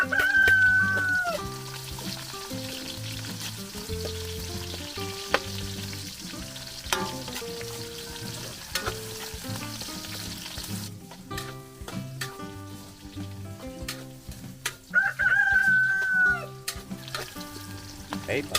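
Onion and garlic fry in a pan at an outdoor farm cooking setting, a soft sizzle running under prominent rooster crows and clucking poultry, with occasional knocks and bumps nearby.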